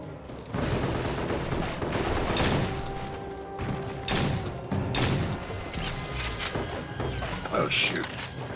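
Rapid energy guns fire in bursts during a video game, crackling blasts stacking into dense volleys with heavy impacts. The shots sound close and loud, with brief lulls between flurries.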